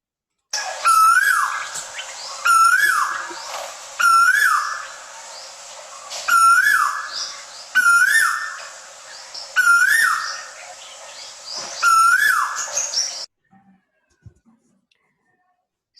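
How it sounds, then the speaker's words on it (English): A male quail repeats its call six times at evenly spaced intervals of about two seconds, each a loud, clear whistled phrase that rises and falls, heard close with no other sound, before it goes quiet. "Here's the call of the male quail."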